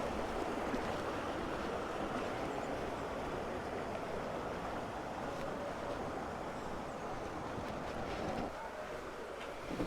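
Water pours down a cliff beside a river at Tuel Eco-Park in Benguet, a steady broadband rushing roar that fills the whole stretch, slightly quieter near the end.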